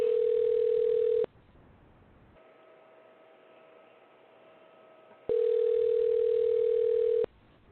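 Telephone dial tone while calling a number: a steady loud tone for about a second, a quieter stretch of ringback-like tone, then the loud steady tone returns for two seconds, no talking.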